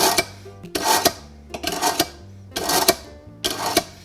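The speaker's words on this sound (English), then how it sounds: "Before we get started, we always want to sharpen our knives." A kitchen knife is drawn repeatedly through a pull-through knife sharpener before smoking a whole chicken, giving four or five short gritty rasping strokes at close range.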